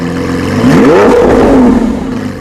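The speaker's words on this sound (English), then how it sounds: "this has to be one of the very coolest exhausts in the entire car industry" A Lamborghini Aventador SVJ engine revs loudly through its exhaust, a single sharp rising-and-falling blip of mid-pitched roar heard close and alone over a couple of seconds.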